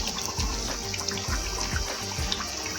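About one and a half glasses of water are poured into a cooking pot of fresh green pea pulao, a steady close splashing stream running throughout with no talking.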